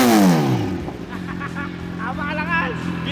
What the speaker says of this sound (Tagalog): ang soundcheck ng V-Lane Shorty Full Exhaust